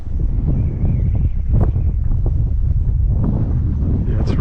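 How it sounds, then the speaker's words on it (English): Gusting wind buffets the microphone on a saltwater creek during a fishing trip, a loud continuous rumbling roar with brief rustles and water noise, while someone talks quietly. "Yeah, it's really gusting wind now."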